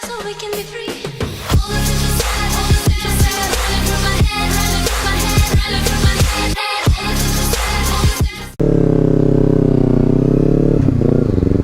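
A Kawasaki Z300 is ridden with a loud, uneven engine note and clattering bursts for most of the stretch, then settles into a steady, even drone near the end.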